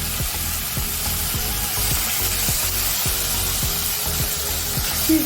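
Tomatoes and onions frying in oil in a pan for kadai paneer, a steady close sizzle with soft stirring scrapes ticking through at a regular pace, no voices.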